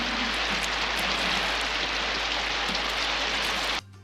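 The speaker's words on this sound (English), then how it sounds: "And when they finally arrive, it starts to rain." Steady rain in a scene from the cartoon 101 Dalmatian Street, a dense, even hiss of falling drops with a low hum beneath, continuous and fairly loud until it cuts off abruptly near the end.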